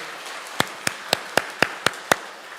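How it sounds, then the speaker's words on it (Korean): Seven sharp, evenly spaced claps ring out alone in a church service, roughly one every quarter second, crisp and fairly close, with no talking over them. "하나님께 영광의 박수를"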